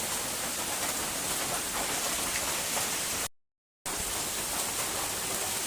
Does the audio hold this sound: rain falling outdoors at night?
yes